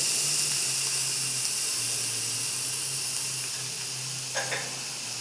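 Ponnanganni spinach greens sautéing in a pan for a Kerala thoran, giving a loud, constant sizzling hiss close by with one faint clink near the end, and no talk.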